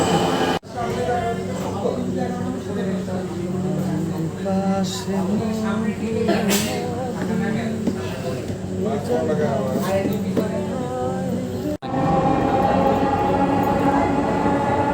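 Steady rumble of a Dhaka metro train in motion, with a clear automated Bengali station announcement naming the next station, Uttara Center, over the running noise.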